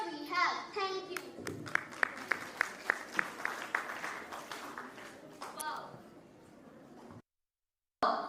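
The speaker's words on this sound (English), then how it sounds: "Let's give them a huge round of applause once again." Applause from an audience after a storytelling competition performance, a dense wash of clapping with sharp individual claps standing out, steady for several seconds, then fading and cutting to a brief silence.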